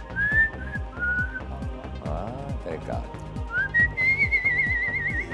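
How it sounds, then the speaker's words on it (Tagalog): A person whistles a short tune on a Filipino quiz show set, clear melodic whistling in two phrases over steady rhythmic background music, with a brief spoken interjection between. "Marunong ka bang sumipol?"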